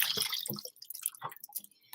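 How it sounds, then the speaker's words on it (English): Water is tipped out of an air fryer after cleaning, a short run of close, irregular splashes and drips that trickle off into scattered drops. "So I just got to empty the water out because I cleaned it."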